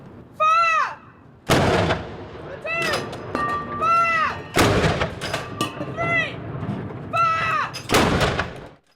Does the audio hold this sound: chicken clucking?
no